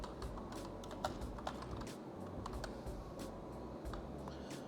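Typing on a computer keyboard to enter text in the Photopea image editor: a quiet, steady run of soft key clicks over a low background hum, with a few slightly sharper taps standing out.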